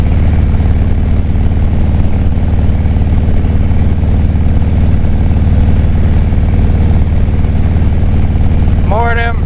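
Motorcycle engine rumbling loud and steady while riding, a continuous deep drone mixed with wind, close to the rider, with a brief faint sound at the end.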